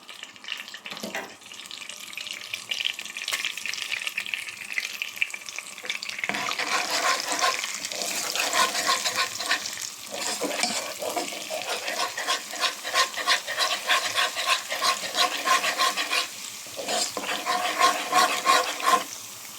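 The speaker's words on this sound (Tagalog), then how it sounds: "Igigisa na natin ang ating garlic." Garlic sautés in a pan, a continuous crackling sizzle that runs steadily for the full stretch, with a few quieter dips and scraping stirs along the way.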